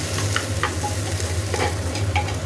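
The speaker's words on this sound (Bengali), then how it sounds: "এই যে এখানে চালগুলো দিয়ে দিয়েছি, এবার একটু ভালো করে ভাজা হোক" Rice fries in ghee with cardamom in a pan while being stirred. A loud, steady close sizzle is broken by repeated scraping strokes of the spoon, with no voices.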